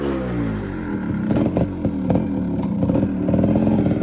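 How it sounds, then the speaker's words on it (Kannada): An old motorcycle engine fires up and revs close by, its uneven, throaty putter rising and falling in short bursts of throttle. "ಕಿಕ್ಕು ತೆಗೆದು ಸ್ಟಾರ್ಟ್ ಮಾಡದೆ ಮಜ"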